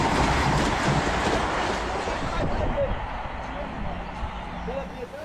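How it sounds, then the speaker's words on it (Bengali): Orange Vande Bharat Express 22348, Patna to Howrah, runs past Balarambati station amid steady loud rail rumble and clatter, a faint squeal near the end, with a voice talking over it. "আসছে সুন্দরী কমলা ট্রেন নাম্বার 22348 পাটনা থেকে হাওড়াগামী বন্দে ভারত এক্সপ্রেস"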